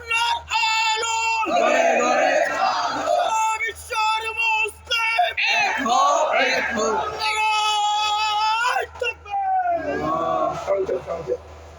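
Loud, close chant of Allahu Akbar and zindabad at a rally in Rupganj, a vast crowd roaring in unison behind a voice leading the slogans, with repeated surging waves of shouting that run for several seconds.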